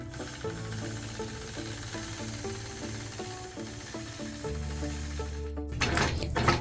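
A sewing machine quilting concentric circles with a Sway ruler, its needle running in a steady, rapid mechanical rhythm that stays close and even throughout, then louder rustling near the end.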